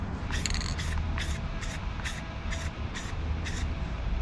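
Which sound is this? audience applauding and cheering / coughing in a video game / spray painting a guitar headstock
spray painting a guitar headstock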